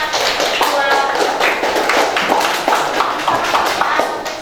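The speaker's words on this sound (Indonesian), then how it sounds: "Tepuk tangan buat kelompok 1" Classroom applause for the first student group after their presentation, a dense run of close hand claps that keeps going steadily throughout, with voices mixed in.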